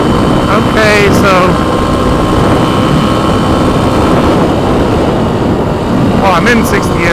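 A Kawasaki KLX300 motorcycle engine with revised gearing pulls in sixth gear, a loud steady drone under heavy wind rush, with a rider's voice in brief bursts near the start and end.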